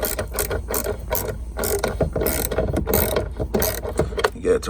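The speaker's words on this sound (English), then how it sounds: "so I'm just gonna use a ratchet." Rapid clicking of a ratchet turning 7mm bolts on the instrument cluster of a 2007 Chevy Suburban, close up, in quick repeated bursts of ticks with brief pauses between strokes.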